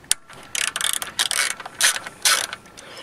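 A ratchet clicks while loosening screws on a Chinese GY6 139QMB scooter during an ignition swap, with close, crisp bursts of rapid pawl clicking separated by short pauses.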